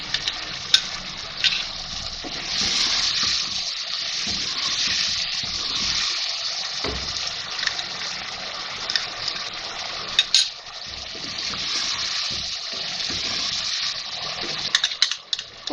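Beef liver sizzling and frying in a pan with yogurt and spices, a steady loud hiss and crackle with occasional clinks of utensils against the cookware.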